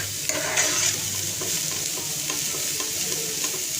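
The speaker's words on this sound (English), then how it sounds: "raise the flame and we give it a quick stir" Vermicelli noodles given a quick stir in a hot pan over a raised flame for a Chinese-style snack, a steady close sizzle and frying hiss with light scraping strokes, no talk.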